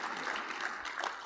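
An audience applauds a mental telepathy expert at a tech keynote, a steady, dense wash of clapping from a crowd that stays at an even level throughout.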